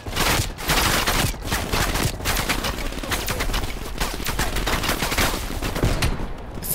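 Dense, relentless gunfire from the video game Call of Duty: Black Ops Cold War, with rapid automatic bursts and overlapping shots filling the whole stretch at close, loud range with hardly a pause.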